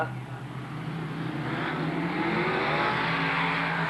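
Modified race cars racing on a track at a modified masters meeting, a loud sustained roar of engines with a rising drone as cars pass, under a commentator's voice.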